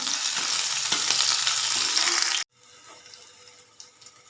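Crushed ginger and garlic hit hot oil with popped mustard seeds in a pan, a loud dense sizzle that cuts off abruptly partway through, leaving a quieter low frying crackle with faint stirring.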